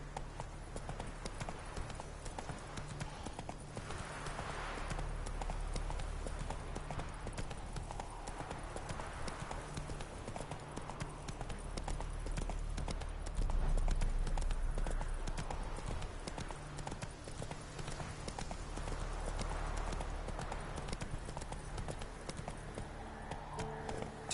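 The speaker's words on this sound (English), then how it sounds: "Whoa there, Roach." Horse hooves clip-clop steadily in The Witcher 3, a brisk continuous rhythm of close, clear footfalls. Soft ambient game sound runs underneath.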